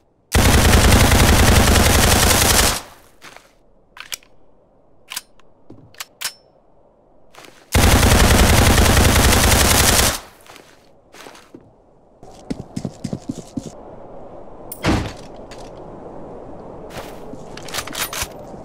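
MP7 submachine gun fire in the Roblox game Criminality: two loud sustained automatic bursts of about three seconds each, separated and followed by scattered clicks, footsteps and short taps.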